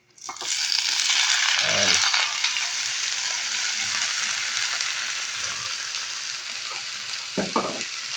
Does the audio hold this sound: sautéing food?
yes